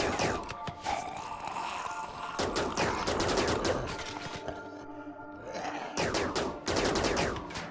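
Colonists in the RimWorld video game fire on a wall, with rapid bursts of game gunfire crackling almost continuously and loud up close, and only brief gaps between volleys.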